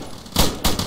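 Gunfire in the Arma military video game, two sharp broadband bursts of shots close together, fairly loud against a quiet background with no talk.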